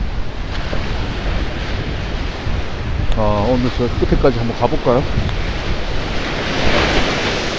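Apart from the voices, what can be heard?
ocean waves on a beach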